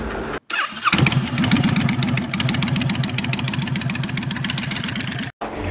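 Honda Fury motorcycle fitted with a Cobra exhaust: a brief starter crank catches, and the engine settles into a loud, close, steady idle with a deep, even, throbbing exhaust note.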